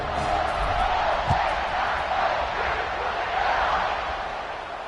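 A stadium crowd buzzes after a touchdown at a football game, a dense, steady roar of many voices heard from within the stands, holding loud and even for the whole stretch with one brief thump partway through.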